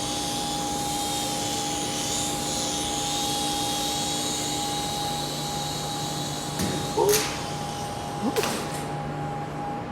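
Cheap $5 toy RC helicopter, an XB Raptor Copter, spinning up and flying as a steady high-pitched electric whine, ending in a couple of sharp clattering knocks.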